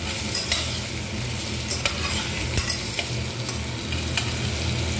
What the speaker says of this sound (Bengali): আলুটাকেও কিন্তু আমরা একটুখানি লালচে বা ব্রাউনিশ করে একটু ভেজে নেব